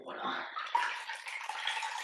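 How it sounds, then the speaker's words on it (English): Water splashes and swishes as a face cloth is rinsed in a basin, a brief, soft wet sloshing heard close by. "So then you put it back in the water."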